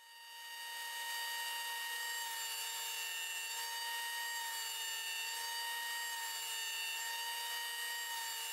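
A table saw fitted with a miter gauge set to 30 degrees cuts through a wooden panel, a steady loud whine with strong high tones that spins up over the first second and then holds constant without a break.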